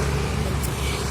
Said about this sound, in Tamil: டிராஃபிக் பாரு